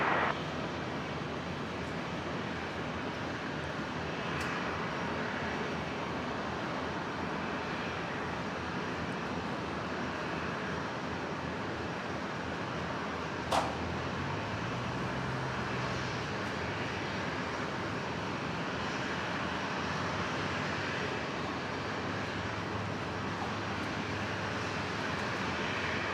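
An airplane takes off from runway 01 left at Brisbane Airport: a continuous, broad jet-engine roar that holds steady for the whole stretch, heard from a distance, with a brief higher-pitched whine partway through.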